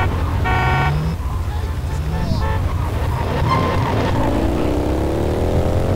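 A motorcycle engine in the video game GTA San Andreas revs and climbs in pitch amid other traffic noise and a horn toot, loud and close, with someone talking over it.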